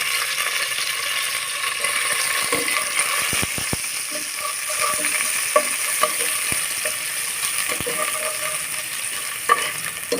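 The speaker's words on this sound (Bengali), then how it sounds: "মশলাটা আমি সুন্দর করে ভেজে নেব" Spices frying in a pan with ginger-garlic paste and green chili for a fish-head and ash gourd dish, a steady sizzle with repeated scraping and clicking from stirring throughout.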